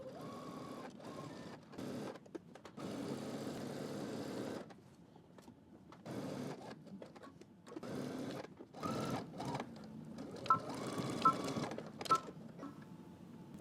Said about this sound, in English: we're going to stitch right over this fold here